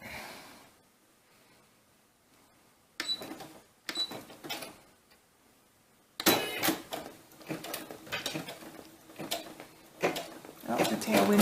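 A Brother SE-400 embroidery machine stitches multiple lines in a hoop. After a quiet stretch it starts into close, clattering bursts of mechanical whirring and ticking that grow busier toward the end, mixed with nearby speech.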